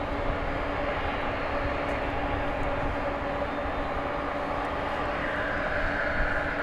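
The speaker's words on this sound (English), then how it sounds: "the pushback of this other MD-11" Aircraft engines of an MD-11 being pushed back at DFW Airport give off a steady, continuous jet roar and whine at moderate distance, with no one talking.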